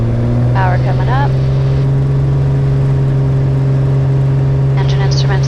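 A light aircraft engine drones steadily at rising takeoff power during the roll from the F70 airfield, a constant loud hum under two short bursts of cockpit talk.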